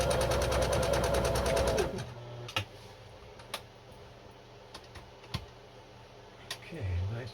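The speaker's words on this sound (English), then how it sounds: "Okay, zigging and zagging, a little more leisurely." A Singer Genie sewing machine stitches a zigzag in a fast, even, close chatter for about two seconds, then stops, followed by scattered clicks and a brief restart near the end.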